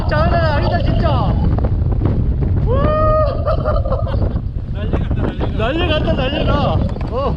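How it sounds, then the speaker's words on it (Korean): Strong wind buffets the microphone during a bicycle ride, a loud, rough low roar that surges and eases, while voices talk over it. "지금 바람이 엄청 부네요."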